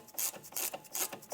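A bolt is threaded in by hand on the rear shock absorber of a 2011-2019 Ford Fiesta, giving close, rhythmic rasping and scraping bursts as it turns, with no talk.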